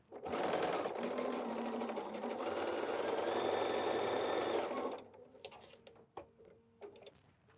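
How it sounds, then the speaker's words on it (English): A sewing machine runs close and steady for about five seconds while stitching fabric pieces together, its rapid needle chatter changing pitch slightly. It stops, and scattered clicks and handling noises follow. "Let's just sew this together."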